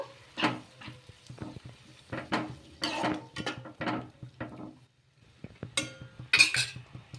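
Grated potato being stirred into simmering water in a pot, giving a run of scraping, clinking utensil strokes against the pot in irregular bursts with quiet gaps between, close and fairly clear, no talking.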